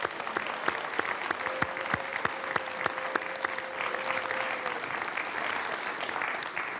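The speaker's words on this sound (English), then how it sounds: "Let's give all of them another round of applause," An audience claps for the 2022 winners at a business school leadership awards ceremony, a sustained round of applause with sharp individual claps over a soft, even wash of clapping that fades near the end.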